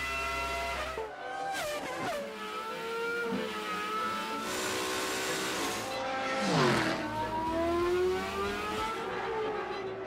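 Mercedes-Benz racing cars from the 1998 motorsport season drive at speed, engines revving and rising and falling in pitch as they sweep past, with a brief tire squeal amid steady loud track noise.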